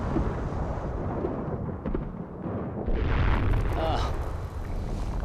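Rumbling low booms and thuds from an active volcano in New Guinea hurling red-hot rock onto the ground, heavy blasts swelling over a continuous roar, close and loud.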